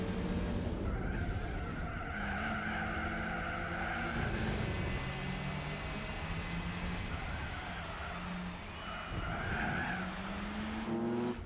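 Race car in Gran Turismo 4 skids with tire squeal over a loud, steady engine drone that rises and falls in pitch, continuous throughout with no talk.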